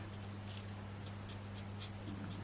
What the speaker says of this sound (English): I'm using the fine nib, just I'm a bit more confident with a smaller nib